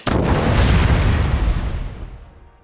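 A suicider's boomstick detonating in Fallout: Wasteland Warfare, one loud, close, booming explosion that hits at once and rumbles off over a couple of seconds, without talk.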